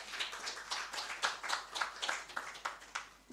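Clapping at a presidency event for a national economic dialogue report as the Minister of Finance is welcomed, a steady, rhythmic series of claps from a small audience, moderately loud and evenly spaced, with no talk over it.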